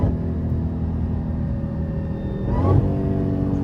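A Dodge Hellcat accelerates hard along a small-town road, its steady deep engine rumble and drone swelling into a louder surge near the end, heard from inside the car with no talking.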